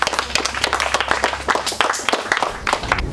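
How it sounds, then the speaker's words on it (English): Participants in a trivia competition give a round of applause, a lively, dense burst of many hands clapping close by with irregular rhythm throughout. "I want you guys to give yourself a big round of applause."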